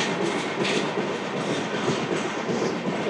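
Samata Super Fast Express, train 12807 from Visakhapatnam, running at speed with a steady, loud rumble of wheels on rail throughout, no voices.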